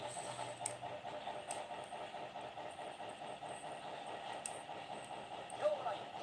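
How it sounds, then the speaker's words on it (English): A D51 steam freight locomotive runs at a steady, unhurried pace, its continuous rolling rumble and rhythmic wheel clatter holding at a moderate level with a few brief higher-pitched squeals over the top. "D51 ain't exactly fast. Definitely a product of being a freight locomotive."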